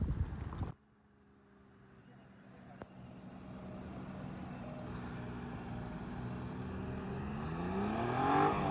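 A car engine during a driving lesson, after a brief knock: a faint, steady drone that climbs gradually in pitch and loudness as the engine is revved, with quiet voices now and then.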